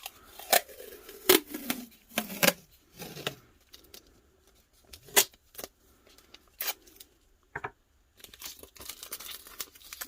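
Painter's tape being handled gives off sharp, close crinkles and quick tearing snaps in irregular bursts, separated by quiet gaps.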